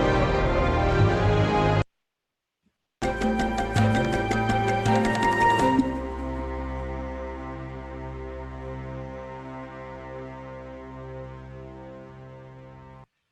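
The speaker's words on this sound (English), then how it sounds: "And a drone sounds like this." Ambient library-music drone: a sustained, layered tone that breaks off for about a second, returns brighter and fuller, then settles into a steady low hum that fades toward the end.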